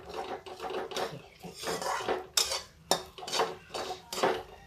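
Laddu mixture being roasted in a pan with desi ghee, a spatula scraping and stirring in repeated rasping sweeps with occasional metallic knocks, close and fairly loud, no voices.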